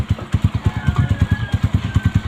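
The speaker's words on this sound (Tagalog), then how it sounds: "Yung in-overhaul natin makina ng tubig. Bubuhay na natin." An overhauled water pump engine runs close by with a steady, rapid thumping beat at a fairly loud level, and a voice speaks over it.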